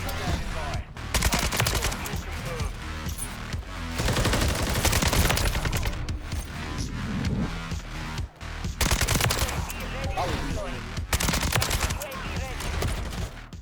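Sustained automatic fire from a Kastov 7.62 assault rifle in Modern Warfare, loud, dense bursts of rapid shots running almost continuously, broken by a few short pauses.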